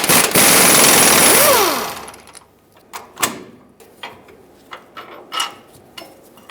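A nut coming off a bolt on a Ram 2500 rear shock, worked with a 21mm socket and wrench: a loud burst of rapid ratcheting at the start, then a few sharp metallic clicks and clanks close by.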